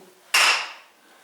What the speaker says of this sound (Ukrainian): Є у мене такий ось інструмент, молоточок, це свинець.